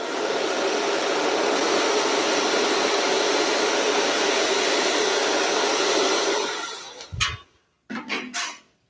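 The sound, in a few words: hair dryer blowing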